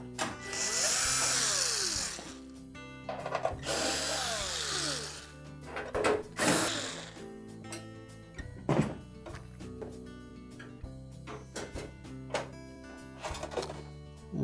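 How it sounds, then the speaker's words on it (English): A power driver whirs in bursts while backing out screws from the upper back panel of a Frigidaire range, followed by scattered clanks, thunks and clicks of metal parts being handled close by. "remove the screws that secure that to the cabinet"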